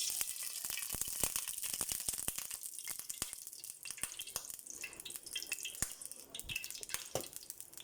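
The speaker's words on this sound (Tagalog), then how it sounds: "Salang na po natin yung ating piniritong tilapia." Tilapia frying in hot cooking oil gives a steady, dense sizzle full of quick crackles and pops, close and continuous with no voices.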